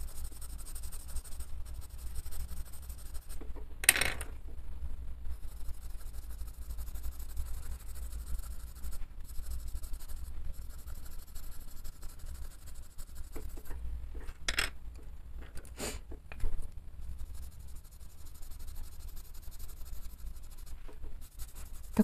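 Soft, continuous scratching of colored pencils on paper while an illustration in a coloring book is filled in, with gentle strokes and a few sharper taps in a quiet room, no talking.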